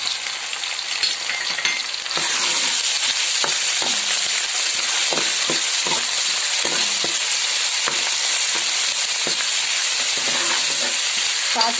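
Garlic and ginger frying with browned onions in a pan for vegetable pulao, a loud, steady sizzle that runs throughout with occasional stirring scrapes and clacks, and no talking.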